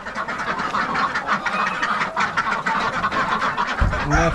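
A group of farmyard ducks quacks busily and close by, overlapping calls rising and falling with a louder burst of quacking at the end.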